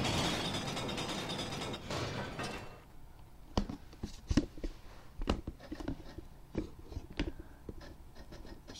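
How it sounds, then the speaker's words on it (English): Gate mechanism opening in LEGO The Hobbit, with irregular ratcheting clicks and clunks of turning gears following a fading noisy wash. "Open the gate."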